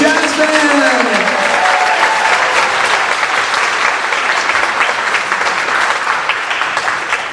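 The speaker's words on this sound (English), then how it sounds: "give us a round of applause for the WMS Monday Jazz Band!" An audience at a school spring jazz band concert applauds the WMS Monday Jazz Band, a loud, dense, sustained wash of clapping that starts over a fading voice and tapers slightly at the end.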